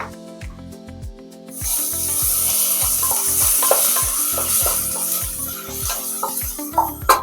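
Onions frying in a pan with ginger-garlic paste and green fenugreek leaves, stirred with a spoon: a loud, steady sizzle that swells after a quieter start, with regular scraping and clinking strokes repeating throughout.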